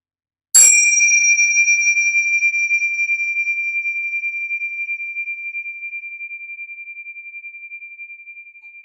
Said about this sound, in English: the sounding of this bell will bring a close to this short meditation